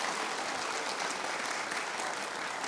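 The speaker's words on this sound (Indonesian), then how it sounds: "Tepuk tangan untuk Rias Rashid." Studio audience applause for Ryaas Rasyid on a televised Indonesian talk show, a dense, even roar of clapping that holds steady and fairly loud from start to finish.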